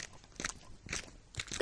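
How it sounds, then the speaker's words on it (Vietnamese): Cartoon effect of a cat biting and crunching fish, three short, crisp crunches spaced evenly, close and fairly quiet. "nó vừa cắn chết cả đống cá đây nè"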